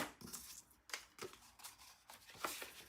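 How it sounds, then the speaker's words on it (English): Scissors snipping through ribbon on a paper-craft card, several quick sharp cuts in an uneven rhythm, close and fairly quiet with no talking. "grab your scissors that can cut ribbon,"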